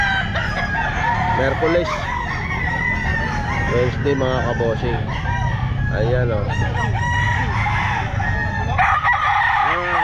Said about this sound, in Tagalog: Manok ito. Palawan Gold daw po ito. Bullstag.